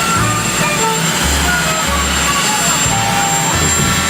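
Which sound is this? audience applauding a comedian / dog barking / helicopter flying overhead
helicopter flying overhead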